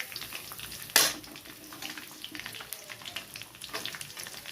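Spices and chopped onion fry in hot oil for a mutton pepper fry, giving a steady close sizzle with a sharp crackling burst near the start, then softer spitting and popping.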